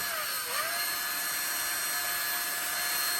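A high-pitched electric kitchen mixer motor whines continuously at close range while whisking, its pitch dipping briefly near the start before holding steady.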